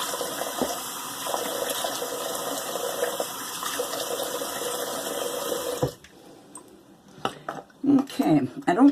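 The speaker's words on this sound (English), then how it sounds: "let me do a cold rinse." Running tap water splashes steadily into a sink for a cold rinse after a shave with a safety razor, a continuous close hiss for about six seconds before it shuts off, followed by a few quieter clinks and handling noises.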